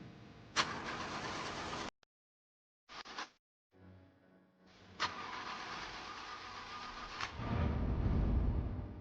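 A stalled car's engine is cranked several times in short bursts separated by silences, then catches and runs with a loud, steady roar near the end.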